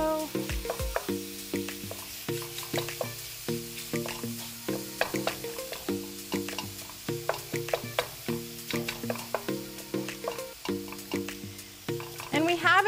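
Ground meat fries in a hot pan over medium to medium-high heat while being broken up for low FODMAP tacos, a steady sizzle partly masked by louder background music.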